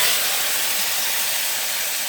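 Sliced brinjal dropped into hot oil where chillies are already frying, for a Chhattisgarhi kadhi with round brinjal, sends up a loud, steady, hissing sizzle that fills the whole stretch without letting up.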